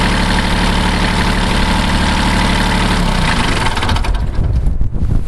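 A Kubota B5100D compact tractor's diesel engine idles with a steady rumble, then is switched off about three seconds in, the knocking throb winding down and sputtering to a stop on a cold, snowy day.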